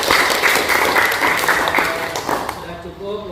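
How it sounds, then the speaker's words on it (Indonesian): A class of automotive engineering students claps together in a classroom, a loud burst of applause that runs for a few seconds before thinning out, with a voice speaking over its tail end. "Buat kalian semua kita tepuk tangan dulu."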